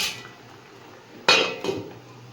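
A metal lid comes off a pan of simmering fish curry with a sharp clattering clank, followed by a second softer knock, close up against a quiet, faint bubbling background.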